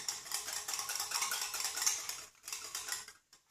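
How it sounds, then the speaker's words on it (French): Eggs beaten with cornstarch in a bowl make a rapid, continuous clatter of whisking, close and fairly loud, pausing briefly near the end before a final short burst, with no speech. "une fois que vous avez bien battu vos œufs avec la maïzena"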